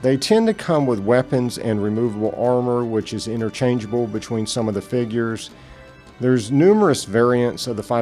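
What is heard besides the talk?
No everyday noise stands out behind the speech.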